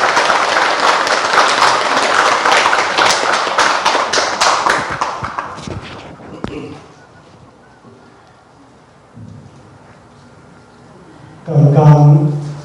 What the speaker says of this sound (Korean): 박수 한번 좀 치주십시오.